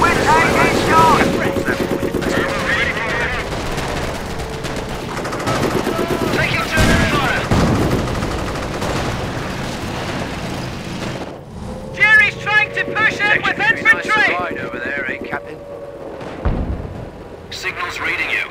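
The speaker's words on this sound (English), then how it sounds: "We're taking shots." Dense, continuous gunfire and artillery shelling in the WWII video game Company of Heroes, set in 1944 Caen, with rapid rifle and machine-gun bursts over a heavy rumble and sharper crackling volleys later; voices talk over the battle.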